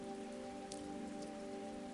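Steady, gentle rainfall making an even, continuous hiss, with a couple of slightly louder drops and no voices.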